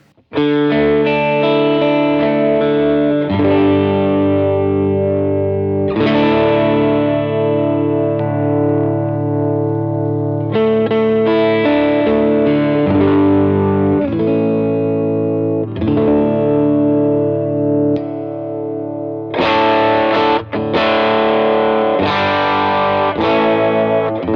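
A Gibson '56 Les Paul electric guitar in the middle pickup position plays through an amp with wet stereo effects, ringing chords and notes sustaining loudly and continuously for the whole stretch, with no talking.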